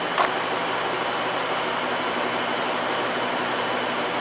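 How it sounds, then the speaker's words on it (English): A Dodge Grand Caravan engine idles rough and shakes from a misfire, giving a steady, loud, close mechanical drone with a dense broadband rumble throughout and no talk. "Engine's shaking like crazy."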